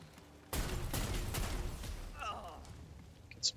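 A single gunshot erupts in Necromunda: Underhive Wars, a sudden sharp report followed by a rattling burst of impacts that fades over a couple of seconds, with a faint voice-like tone after.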